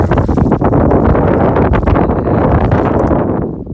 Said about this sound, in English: today it's like pretty windy now too